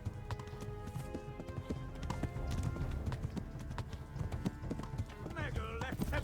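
Horse hooves galloping in Kingdom Come: Deliverance, a steady rapid clip-clop of hoofbeats that runs throughout, mixed with game music and ambience.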